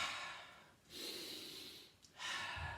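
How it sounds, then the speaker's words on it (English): Exaggerated breathing during a boxing punch combination: a few sharp, forceful exhales and inhales through the nose and mouth, close and loud, with short pauses between bursts and no talking. "what's my breathing doing during this whole complicated process?"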